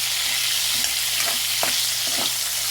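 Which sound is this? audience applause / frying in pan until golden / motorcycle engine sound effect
frying in pan until golden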